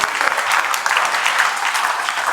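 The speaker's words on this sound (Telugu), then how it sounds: "చప్పట్లు కొట్టాలా" Classroom applause from a group of students, a dense burst of clapping close by that stays steady and loud for a couple of seconds.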